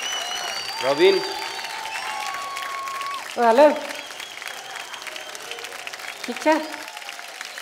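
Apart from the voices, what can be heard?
audience applause on a TV dance show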